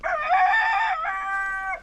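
Chickens call in a short burst, a rooster's drawn-out crow mixed with clucking, loud and close, with no voices.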